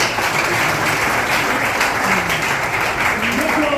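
A church congregation at an evangelistic campus gathering applauds and cheers in praise, a dense, steady wash of clapping and voices filling the whole stretch at close, loud level.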